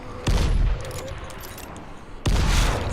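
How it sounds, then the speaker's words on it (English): Two loud explosive pistol blasts from a weapon in the video game Dying Light, roughly two seconds apart, each a sharp boom with a rumbling tail and quieter game ambience between. "See, over and over you're getting that explosion."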